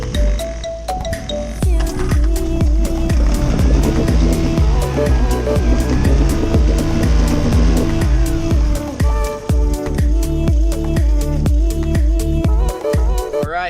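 A boat outboard motor runs steadily through an engine test, with a loud, continuous rhythmic engine drone and repeated sharp knocking pulses.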